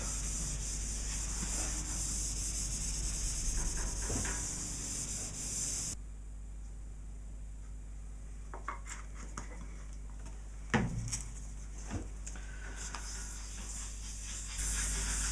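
Danish oil being rubbed by hand into veneered wooden furniture, heard as soft, quiet, intermittent wiping strokes with a few faint taps and no talking.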